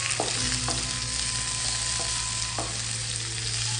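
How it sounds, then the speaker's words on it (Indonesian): Chilies, bay leaves and lemongrass stalks sauté in hot oil for Sundanese nasi liwet, a close, steady sizzle broken by a few clanks and scrapes of a spatula stirring the pan, with no speech. "Kita tumis tidak perlu terlalu lama,"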